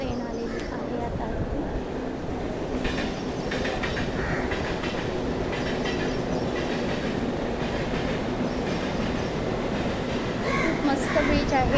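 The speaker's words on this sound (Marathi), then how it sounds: "हे बघा ट्रेन आलेली आहे आता" A train rumbles in and passes close by, a continuous loud roar of wheels and clattering carriages on the tracks with a faint squeal, while people talk in the background.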